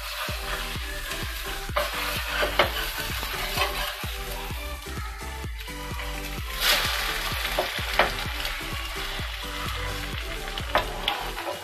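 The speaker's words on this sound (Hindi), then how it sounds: "चलिए अब हम इसको दूसरी तरफ पलटा देते हैं।" An egg dosa fries steadily on a hot pan with a continuous sizzle, punctuated by repeated scraping and tapping of a spatula as it is worked and flipped over, with no talking.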